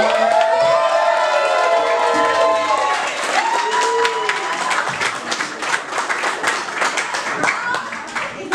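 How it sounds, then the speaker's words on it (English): A live audience at a CEREMONIES performance event greets a featured performer with dense, sustained clapping, cheering and shouted voices, loud and close throughout. "big round of applause for our next feature guest, DePass."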